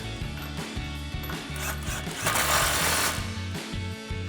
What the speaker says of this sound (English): Get our 21mm nut threaded back on. Tighten that down with our impact.